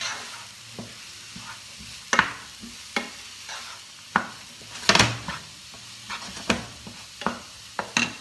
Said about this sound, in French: On va mettre le feu un peu. Donc là, on mélange.